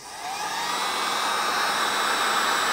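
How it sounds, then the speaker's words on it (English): A heat gun blows hot air over bullet lubricant in a pan to melt it for bullet casting, a steady loud whooshing roar that rises quickly and holds, alone without talk. "I'm going to just take my heat gun"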